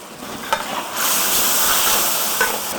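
Soybeans and chicken feet sizzle and hiss steadily in a pan as a spicy sauce reduces, with a few scraping stirs near the start and a loud, continuous frying bed throughout.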